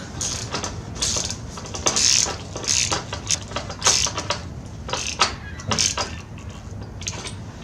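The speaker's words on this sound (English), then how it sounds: "When you feel it going, you can move to the ratchet." A hand ratchet clicks in short irregular bursts, close and moderately loud, turning a spark plug on a Yamaha V-Star 650 motorcycle.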